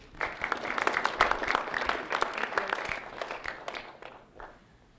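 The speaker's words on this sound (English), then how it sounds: "Round of applause for Ethan" Audience applause breaks out at a live performance, a dense wash of many hands clapping, fairly distant, swelling at once and then thinning out over a few seconds.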